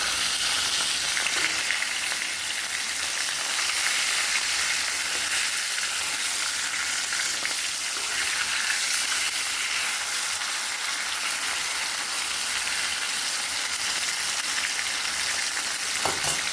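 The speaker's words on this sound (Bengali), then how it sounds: "মাছ দুটো ভেজে নেব।" Two pieces of rohu fish rubbed with salt and turmeric fry in oil in a village kitchen wok, giving a steady, continuous close sizzle with faint crackles throughout and no talking.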